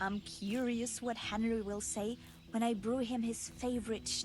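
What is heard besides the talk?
No everyday noises stand out.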